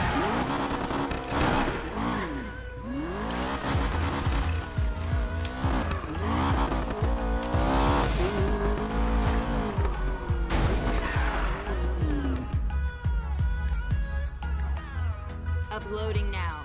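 A car in Need for Speed Payback revs and drives, its engine rising and falling through gear changes while tires squeal in long skids, loud and close throughout.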